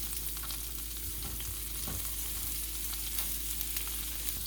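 Olive oil sizzling in a frying pan, a steady hiss with light crackles throughout, close and fairly quiet, with no voices.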